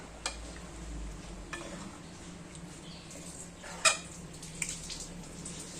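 Coconut curry being stirred in a pot with a spoon, soft wet swishes and a few light clinks against the pot over a faint bubbling, sizzling background.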